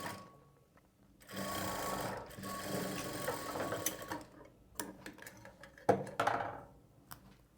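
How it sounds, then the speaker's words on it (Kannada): A sewing machine runs a straight line of stitching along the side seam of a blouse, its motor whirring in steady bursts with short pauses between runs, close and moderately loud with no voices. "ಈಗ ಈ ರೀತಿ ಸ್ಟ್ರೈಟಾಗಿ ನಾವು ಸ್ಟಿಚ್ ಮಾಡ್ಕೊಳ್ಬೇಕು"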